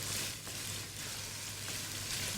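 Marinated minced meat (qeema) frying in oil, a steady close hiss and sizzle throughout with no talking.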